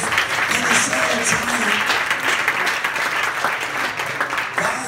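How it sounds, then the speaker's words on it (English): A church congregation claps hands in praise during a service, producing a dense, loud, sustained burst of clapping with crowd voices and shouts blended in. "Everybody give the Lord a hand clap of praise and a shout of"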